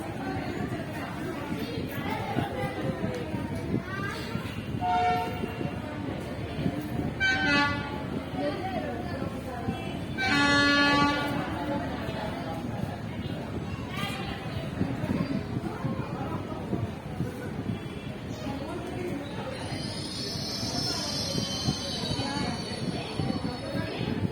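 The Ahmedabad–Katra Express pulls into a station with rumbling railcars, squealing wheels and a short horn toot, while voices and crowd chatter continue throughout.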